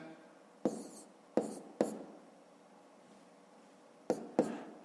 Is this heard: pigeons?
no